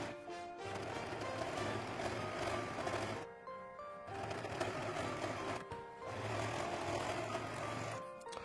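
A sewing machine stitches the sides of a tote bag in quick rhythmic bursts, pausing twice between runs, fairly faint and close with no talk.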